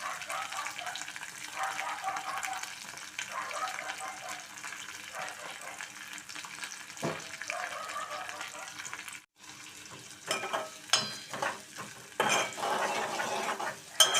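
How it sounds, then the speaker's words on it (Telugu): Onion, green chilies, curry leaves and mustard seeds frying in oil for a bitter gourd curry, a soft, steady sizzle with occasional stirring and clinks of utensils, fairly quiet and close, with a brief gap partway through. "ఉల్లిపాయ ముక్కలు మెత్తబడే వరకు మనం వేయించుకోవాలండి"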